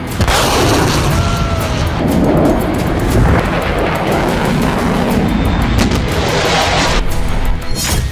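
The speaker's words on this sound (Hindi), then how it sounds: "कई इलाकों में धमाके गूंजने लगे" Continuous loud booming explosions rumble and echo one after another, a dense, roaring wall of blasts with no pause.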